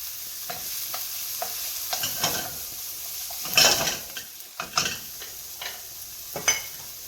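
Shrimp and mushrooms sautéing in olive oil with sun-dried tomatoes and parsley in a pan for a Marsala dish, with a steady close sizzle broken by repeated scraping stirs and a few louder utensil clatters.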